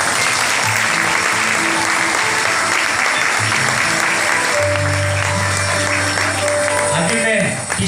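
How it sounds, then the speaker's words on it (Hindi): Audience at a wedding ceremony claps steadily for the full stretch, a dense continuous applause with music or tones underneath and a brief dip near the end. "ताली बजाइए।"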